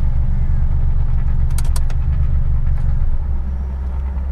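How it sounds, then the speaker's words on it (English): A Mitsubishi Lancer Evolution X or Ralliart Lancer engine droning steadily, then stepping down in loudness as it shuts off near the end, with a couple of faint clicks partway through. "You then need to turn your car off"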